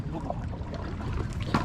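A strong river current rushes steadily, a broad continuous wash of flowing water close by with slight gurgling, no talk over it.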